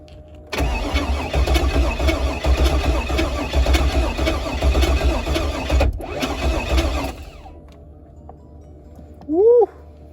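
A Pontiac G8 cranks and fires, its engine running with a rough, loud rumble for several seconds, briefly cutting out and catching again before shutting off, followed by a short voice.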